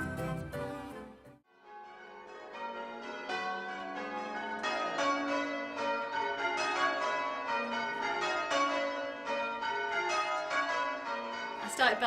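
Church bells rung by a team of bell ringers on a British Sunday: after a short pause near the start, a loud, continuous peal of overlapping clanging strikes rolls on steadily.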